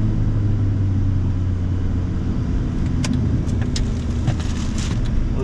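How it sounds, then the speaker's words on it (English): Mini Cooper S lapping Queensland Raceway, a loud in-car engine roar held steady, with a brief dip and some sharp mechanical clicks that could be gear changes, no talking. "gear changes."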